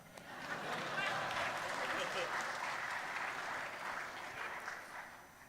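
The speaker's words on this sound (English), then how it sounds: "This is when you applaud." Audience applauding in a church during a sermon, a sustained wash of many hands clapping that swells quickly and stays steady for several seconds before easing slightly.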